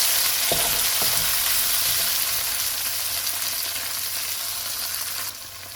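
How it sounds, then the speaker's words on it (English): Finely chopped tomatoes fry in a pan for a tomato chutney, giving a loud, continuous hiss of sizzling with a few soft knocks of a spoon mixing early on. "I will now add 2 tomatoes that are finely chopped. Mix."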